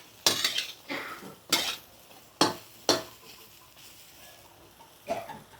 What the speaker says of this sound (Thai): ข่าตะไคร้ใบมะกรูด รากผักชี หอมแขก นี่ค่ะ แล้วก็กระเทียมค่ะ คั่วให้หอมๆก่อน